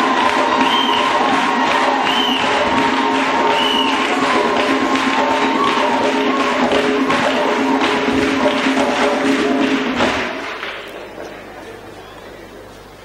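A church congregation cheers and acclaims Jesus Christ, a loud sustained roar of many voices with shouts and clapping that holds for about ten seconds before fading into quieter room noise.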